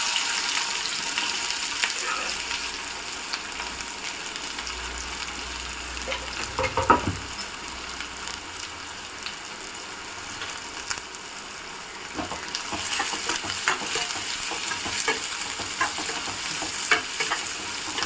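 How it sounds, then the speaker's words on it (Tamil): Cut onions hiss and sizzle in hot oil for a mutton kulambu and pepper rasam, a steady loud frying roar broken by a few stirring clatters partway through. "இந்த எண்ணெய் காஞ்சிருச்சு, வெங்காயம் போட்டுக்கலாம்"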